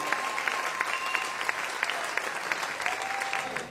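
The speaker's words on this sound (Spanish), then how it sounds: "Dale un aplauso." A church congregation gives sustained applause, a dense, even wash of many hands clapping that holds steady throughout and trails off slightly at the end.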